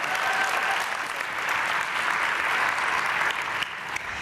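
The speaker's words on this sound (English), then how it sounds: "Let's give them a round of applause" An audience at a leadership conference opening session applauds, a dense, steady wash of many hands clapping that holds throughout.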